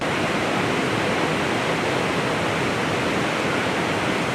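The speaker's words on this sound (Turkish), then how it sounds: "En sonda dediler işte şelale var geldik şelaleyi de gördük gerçekten." A waterfall in a Kastamonu canyon roars as a loud, continuous, dense rush of falling water with no break and no voices.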